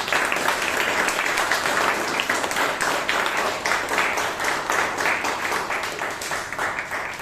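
A room full of people at a Toastmasters club meeting applauds steadily, a dense wash of clapping that holds at an even level throughout.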